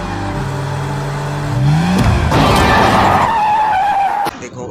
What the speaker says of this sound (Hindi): एयरपोर्ट जाने के लिए कुछ देरी होने के कारण गाड़ी भगाना पड़ रहा है ड्राइवर साहब को